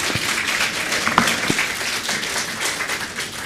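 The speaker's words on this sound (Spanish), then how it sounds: "Aplausos." Applause from a congregation at a Sunday church service, a short burst of dense clapping that holds steady throughout with a few louder individual claps standing out.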